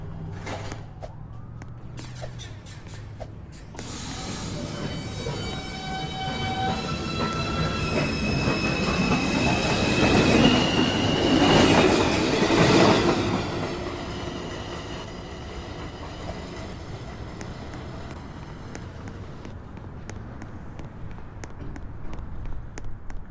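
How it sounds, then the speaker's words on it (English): A Manhattan-bound 2 subway train pulls out of a New York station at evening rush hour, its wheels squealing with a rising electric motor whine that builds to a loud peak mid-run and then eases off as the cars roll away. "This is a Manhattan-bound 2 train."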